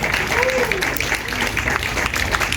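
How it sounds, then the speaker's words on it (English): An audience at the launch event for the 9th Cure Brain Surgery Run applauds its sponsors, a dense wash of clapping from many people that holds steady throughout, with a voice faintly audible beneath it. "Let's give them a round of applause,"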